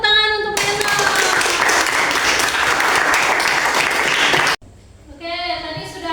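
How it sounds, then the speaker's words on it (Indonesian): A classroom of pupils bursts into dense, lively applause for a classmate for about four seconds, cutting off abruptly before a voice speaks. "Ya, tepuk tangan untuk Reno."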